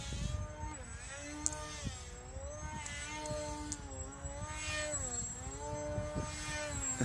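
An electric motor on a small radio-controlled paper aeroplane whines faintly at a distance as the plane loops overhead. The whine dips and rises in pitch as it goes around, over a soft outdoor background.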